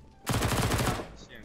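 A rapid burst of automatic gunfire rattles for about a second, followed by short electronic tones, from shooting in CS:GO.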